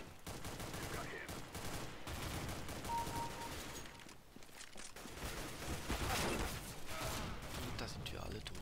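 Dense bursts of automatic gunfire and shots from a CS:GO Arms Race team deathmatch round, continuous across the clip with game effects and some talk mixed in.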